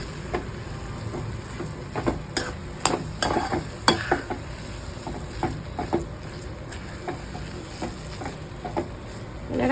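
Coconut filling for suzhiyam being sautéed in a pan, with a low frying hiss beneath irregular clicks and scrapes of a spoon stirring throughout, close and moderately loud, without talk.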